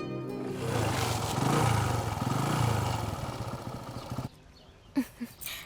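A motorcycle engine in a Hindi film scene runs at a moderate distance, rising slightly and then fading before it cuts out, leaving a few soft knocks at the end.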